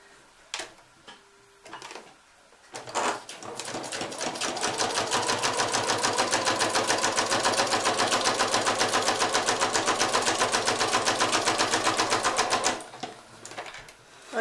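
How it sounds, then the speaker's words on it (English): A domestic sewing machine with a normal needle and standard foot stitches through cork fabric, a steady rapid mechanical clatter of needle strokes running for about ten seconds after a few brief starts. "I have a normal needle and the normal foot on the sewing machine."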